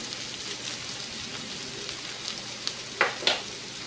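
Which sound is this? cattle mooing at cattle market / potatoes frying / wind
potatoes frying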